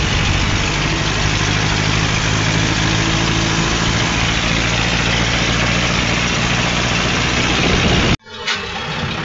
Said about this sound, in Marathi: निघालो की ट्रॅक्टर घेऊन